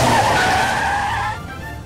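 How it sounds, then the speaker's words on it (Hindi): Car coming up from behind with tires skidding in a Bhojpuri film scene, a loud screeching slide close by that holds steady and then drops away sharply near the end. "हमने के पीछे गाड़ी आवतिया"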